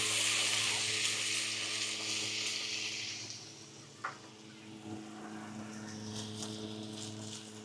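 Half a kilo of shrimp sizzling loudly in melted butter in a pan, a steady close frying hiss that eases slightly midway, with a brief utensil knock.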